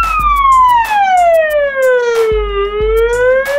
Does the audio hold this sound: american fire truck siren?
yes